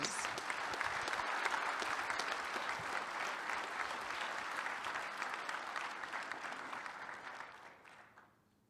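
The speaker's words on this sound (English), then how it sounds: "So one more big round of applause to our sponsors for 20 years" A large audience at the ShmooCon 2025 conference closing remarks gives the sponsors a sustained round of applause, a full, even roar of clapping that slowly tapers off and fades out near the end.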